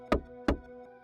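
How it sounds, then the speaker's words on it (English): Two hard knocks on wood sound in a quick pair, each with a short ringing tail, played back from a computer as a sound effect. "You're gonna hear some knocking. It's coming from my stream."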